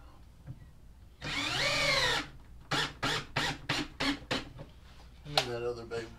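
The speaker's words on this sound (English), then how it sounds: "these Porter cable drills, I've had these guys forever." A Porter Cable cordless drill runs during a wooden quail cage build. It whirs steadily for about a second, then gives a series of short, rhythmic bursts, ending with a rising spin-up.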